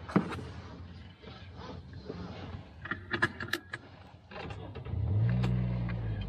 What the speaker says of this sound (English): you can start the engine, please.